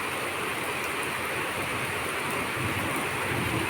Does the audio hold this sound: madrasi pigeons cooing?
no